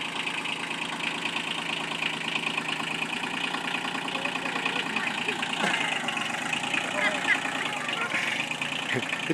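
A tractor engine idles steadily at a farm in Durango, Colorado, a continuous mid-low rumble running throughout with people talking over it.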